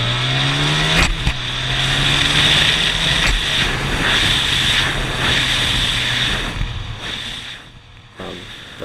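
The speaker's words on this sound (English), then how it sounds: "just going mostly full throttle on this" A 1987 Honda Super Magna motorcycle held near full throttle on a highway, its engine drone steady and loud beneath heavy rushing wind noise that eases slightly toward the end.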